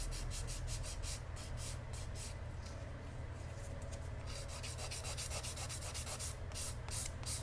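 A hand file rubs quickly across a fingernail in a steady stream of short, scratchy strokes, close and continuous, with a low background hum beneath it and no talking.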